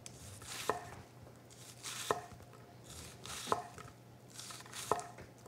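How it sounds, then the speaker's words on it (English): Four evenly spaced knife chops through an onion on a cutting board, each a crisp close thud with a short crunch, about one per second and a half, over quiet background hum. "turn my onion around, make a 1/4 inch slices"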